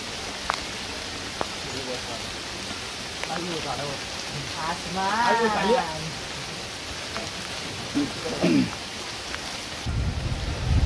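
Rain falls in a forest during a jungle trek, a steady hiss of drops across the canopy, with someone talking over it throughout.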